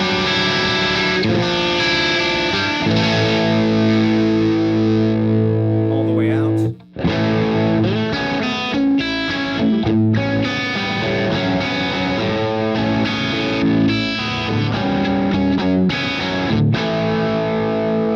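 An electric guitar plays through a Fuchs Mantis Jr. amp with a distorted, sustained tone while the presence control is swept, chords ringing loud and close, with one brief dropout midway.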